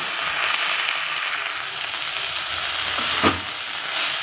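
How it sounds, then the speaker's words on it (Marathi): Fenugreek leaves frying in a hot tempering of garlic, cumin seeds and green chilli pieces, a steady loud sizzle with a brief stir near the end. "मस्त अशी मेथीची भाजी टाकली फोडणीला. लसूण जिरे हिरव्या मिरची तुकडे करून टाकले"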